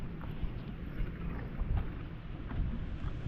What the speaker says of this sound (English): The wind's blowing and it's already blowing me.